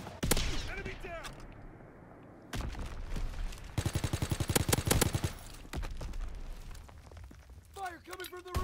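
Rapid bursts of automatic gunfire crackle through a Call of Duty WW2 Infected multiplayer match, with loud sustained volleys and single shots amid battlefield noise, while players talk over the action.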